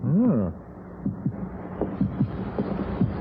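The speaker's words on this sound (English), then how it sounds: "I can hear my heart beating." A heartbeat effect in a science-fiction film plays as a series of soft, low, evenly spaced thumps under a faint hum, after a brief voiced sound at the start.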